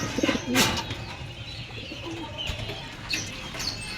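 Pigeons coo softly nearby in Talavera, Nueva Ecija, Philippines, low throaty calls repeating, with a few brief chirps and faint outdoor ambience.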